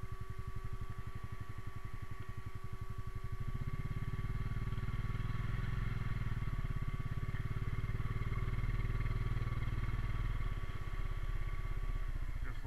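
A Honda Rubicon 520 ATV engine runs steadily in four-wheel drive, a close, continuous mid-pitched engine drone with an underlying whine that grows fuller after a few seconds. No talking is heard.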